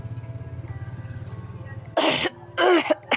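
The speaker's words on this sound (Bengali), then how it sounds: "কাশি হয়ে গেল।" Two harsh coughs break out close and loud after a low rhythmic hum of a background engine or motor.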